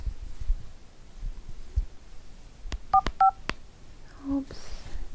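Keypad dialing tones from a phone, a quick run of distinct beeps in a quiet indoor room, spaced irregularly as digits are entered, fairly close and clear with faint background hum.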